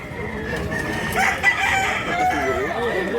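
A rooster crows among other chickens at a live poultry market in Consolacion, North Cebu, with a fairly close, drawn-out call over busy crowd noise and murmuring voices.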